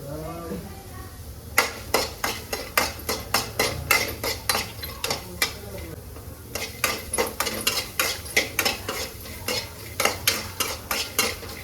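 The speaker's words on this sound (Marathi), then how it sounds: "एक चम्मच तेल ॲड करू आणि चांगलं भाजून घेऊ." Chopped onions roast in oil while a spoon scrapes and knocks against the pan in a quick, regular clatter of many sharp strikes over a low sizzle, close and loud.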